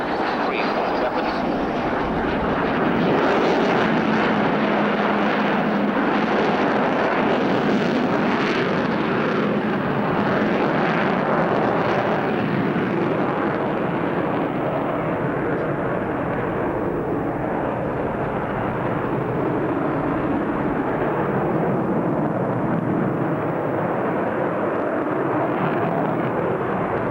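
An Avro Vulcan bomber roars past at the RAF Abingdon airshow in 1990. Its jet engines form a loud, broad, sustained rumble that slowly softens and dulls as it moves away.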